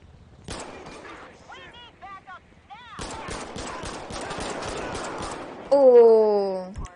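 Machine gun bursts in the video game GTA with the LSPDFR police mod, rapid rattling fire from a police shootout, loud, mixed with game voices and a rising siren-like tone at the end.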